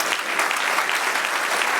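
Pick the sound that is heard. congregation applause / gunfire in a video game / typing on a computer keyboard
congregation applause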